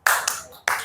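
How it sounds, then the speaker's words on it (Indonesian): A classroom of students clapping a counted hand-clap pattern, two sharp bursts of claps close by, separated by a brief pause. "Tepuk 5."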